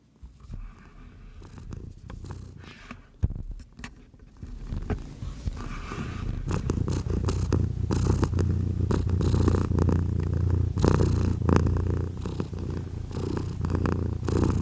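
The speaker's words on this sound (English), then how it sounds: "Are you purring?" A cat purrs close by, a steady low rumble that starts faintly, then swells and holds continuous and fairly loud for the second half, with no talking over it.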